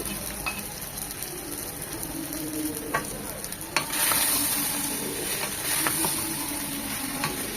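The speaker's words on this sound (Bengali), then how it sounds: "এখন এটাকে একটু পরপর নেড়ে নেড়ে ভাজা ভাজা করে নেবে" Broccoli frying in a pan with chopped onion stalks and salt, a continuous close sizzle that swells partway through, with intermittent spatula stirs and light scrapes.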